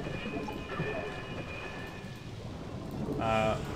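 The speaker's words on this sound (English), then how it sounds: "thunder again" In StarCraft: Brood War, steady rain falls under a deep, rolling rumble of thunder, with a brief synthetic voice near the end.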